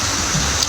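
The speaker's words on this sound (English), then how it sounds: "It's raining now, and it's beautiful." Rain falls in New Orleans as a loud, steady hiss of drops hitting surfaces, continuous and close, with no voices over it.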